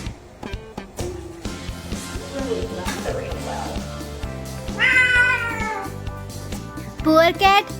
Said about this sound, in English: Poor cat had to go through a bath